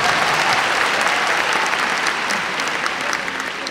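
Graduates in robes clapping for themselves at a university commencement ceremony, a dense, steady wash of applause from a large crowd that holds strong throughout and eases only slightly near the end.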